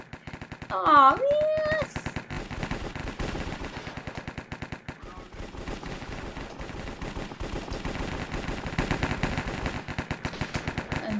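Rapid gunfire in Minecraft's Hypixel Cops and Crims mode crackles in dense bursts and long automatic strings, with a short vocal exclamation near the start and game sound effects mixed in.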